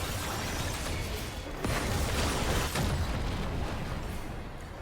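A League of Legends turret collapses during a pro LPL match, a dense crashing, crumbling roar with a few sharper bursts, loud and sustained for several seconds.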